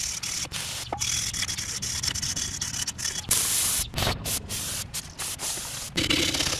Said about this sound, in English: I'm gonna give this just a little extra scrub. That way I remove the old anti-seize.